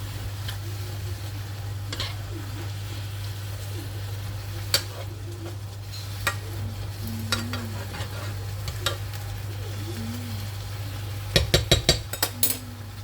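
Food with turmeric and sweet paprika sizzles steadily in a pan under a constant low hum, with occasional soft utensil clicks and a quick cluster of taps near the end.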